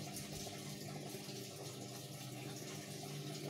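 Water gushes steadily out of a Polytron washing machine being drained after a leak repair, a continuous close rushing flow that holds the same level throughout with no talking.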